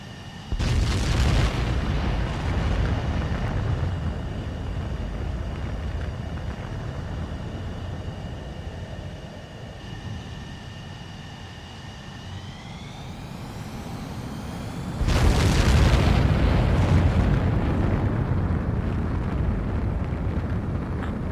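A craft launching in a video game: a heavy roaring rumble of engines, a rising whine building midway, then a loud surge of thrust blasting off near the end, with no talking.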